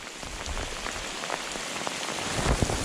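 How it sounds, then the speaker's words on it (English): Heavy rain pours steadily on a river delta fishing spot, a dense hiss of drops drumming on surfaces close by, with no voices. "Pouring rain. Perfect."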